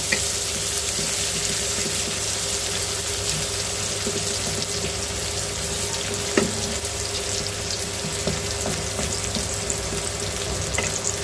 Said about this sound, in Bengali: এরপর পেঁয়াজটা একটু ভাজা ভাজা করবো